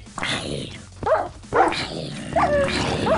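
Dog in the Minecraft MyPets game barking and whimpering while being attacked, several short yelps and cries in quick succession, close and fairly loud with game noise underneath.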